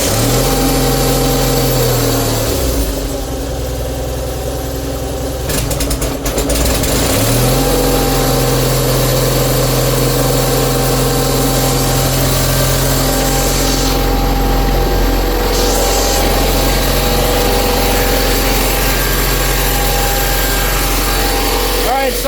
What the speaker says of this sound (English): See if it'll fire up.